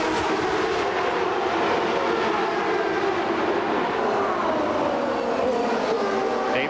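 IndyCar race cars of the 1996 CART season at the Molson Indy Vancouver street circuit, a steady loud blended engine roar with shifting whine from several cars running together throughout, with no voices.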